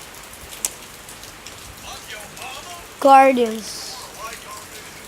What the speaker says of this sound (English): It's pretty rainy.